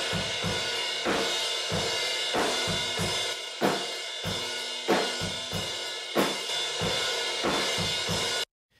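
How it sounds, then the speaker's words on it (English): Drum kit room mics bussed through Red Light distortion, giving a crushed, gritty sound with punchy kick and snare hits in a steady groove, loud and dense until a sudden cutoff at the end. "Red Light distortion is just one of my favorites, and it sounds like this"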